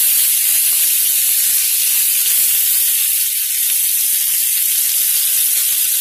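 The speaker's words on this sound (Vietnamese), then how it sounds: "Mình chiên cho cái phần thịt này nó vàng lên," Meat frying in cooking oil in a pan, a steady close sizzle and hiss that runs unbroken throughout with only a brief dip partway, no voices over it.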